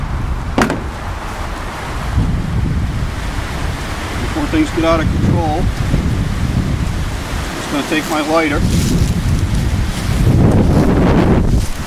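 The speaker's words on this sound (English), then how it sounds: "Sorry about the wind today." Strong wind buffeting the microphone outdoors while a canoe is being rigged, a steady low roar with gusts throughout, under someone talking.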